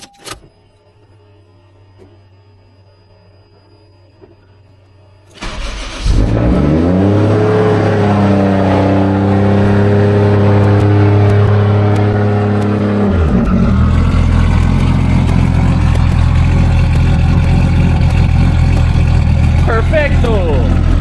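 A Toyota JZX engine cold-starts after a quiet pause, then settles into a loud, rough, steady idle with a strong low rumble and rises into a held higher-rev drone that continues to the end.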